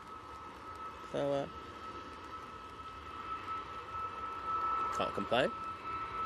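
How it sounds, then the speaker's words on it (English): A Boeing 737 MAX 8 jet departs Manchester Airport, its steady, distant roar running beneath people chatting nearby. "737 MAX 8 off to Hurghada."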